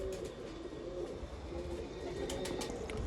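A pigeon of the Binder Pulha bloodline coos softly and repeatedly at close range, a low rhythmic murmur against faint background noise with no talk.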